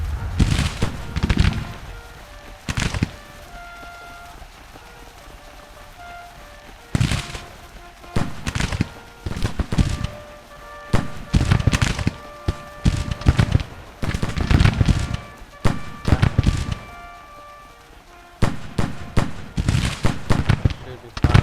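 Artillery firing in a Union-side video game battle, heard as loud sharp booms and crackling gunfire bursts in irregular clusters, separated by quieter gaps of low ambient noise.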